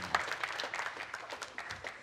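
Faint audience applause from men at a comedy show, a steady patter of claps lasting about two seconds with no one speaking over it.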